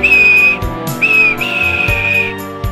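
A steam engine whistle sounds loud and close, a sustained high tone that breaks off briefly and then blows again in a longer second blast.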